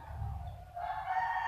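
A rooster crows loudly and close by, its drawn-out call rising in the second half and holding steady to the end, with no talking.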